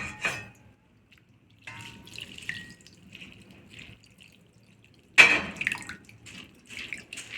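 Sabudana and makhana are rinsed with water in a filter for kitchadi. Faint drips and splashes of water come in short bursts, with a louder splash near the end.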